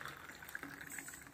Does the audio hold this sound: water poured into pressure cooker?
yes